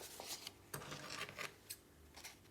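Scissors snip through paper overlaps while pockets are made in a book-turned-journal, a close, quiet series of irregular cuts and rustles with no talking.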